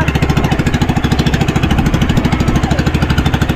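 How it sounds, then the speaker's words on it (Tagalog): A vehicle engine runs loudly and close, with a fast, steady chugging pulse that keeps an even rhythm from start to finish and no voices over it. "Huwag mamatay ang makina ha!"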